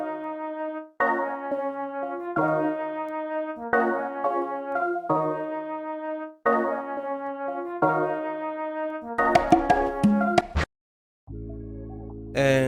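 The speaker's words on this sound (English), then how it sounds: "added a flute again from Sinful Orchestra, as well as a plucky sound from the plugin DP1, and the preset name is called Alleyway" A flute melody and a plucky synth from the DP1 plugin's Alleyway preset play a repeating phrase of clean, bright notes, ending in a brief busier passage, a short gap, and a sustained tone, with no talking.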